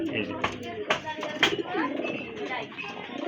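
A pair of high-quality pigeons at a pigeon farm coo softly in short repeated phrases, mixed in with people talking nearby.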